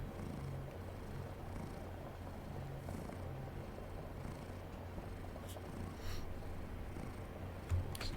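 A soft kitty purrs in a steady low rumble throughout, close and quiet under a faint hiss, with a few small clicks near the end.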